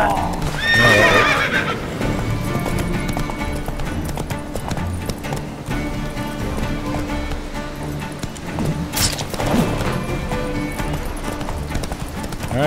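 A horse galloping in The Witcher 3: The Wild Hunt video game, with a steady rolling drum of hoofbeats, whinnies and snorts near the start and end, all under game music and ambience with no talk.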